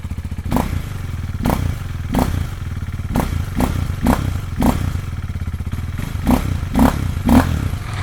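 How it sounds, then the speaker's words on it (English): A KTM Duke 390 with a modified exhaust cold-starts and idles, then gives a series of sharp throttle blips, about a dozen loud punchy revs at irregular intervals, recorded from a few metres behind. "I will make cold start, a little revs and revs like from 5 meters behind."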